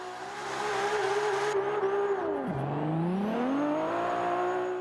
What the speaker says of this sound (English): Oh, when those turbos come on. Love that sound.